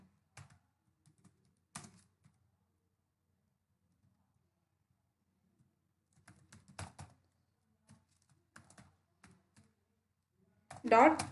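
Short bursts of keystrokes on a computer keyboard, faint and sparse, come in scattered clusters with a louder flurry at the end while someone talks quietly between them.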